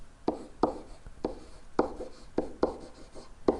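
Pen or marker writing out a triangle congruence statement on a board, giving about eight sharp, evenly spaced strokes and taps, close and fairly loud, with no speech over them.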